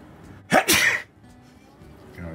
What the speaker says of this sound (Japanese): ちょっとくしゃみしたら